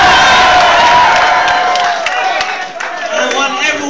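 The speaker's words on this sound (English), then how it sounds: "I want everyone to give a round of applause to Milton." A large crowd cheers and applauds loudly, with whoops and shouts over the clapping, fading slightly toward the end.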